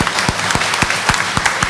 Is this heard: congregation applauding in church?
yes